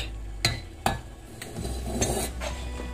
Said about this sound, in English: I am going to pull that off of the stove